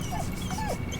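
A dog in Baldur's Gate 3 gives a few short, thin whimpering whines over a steady background bed, all within about a second.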